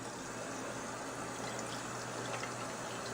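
Paintbrush swirled and rinsed in water after working in baby shampoo, a steady close trickling, sloshing wash of water running continuously without pause.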